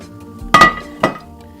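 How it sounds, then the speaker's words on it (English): A plate is grabbed in a home kitchen while breading country fried pork chops, giving two bright ceramic clinks about half a second apart, close and fairly loud over a quiet room. "we're going to grab a plate"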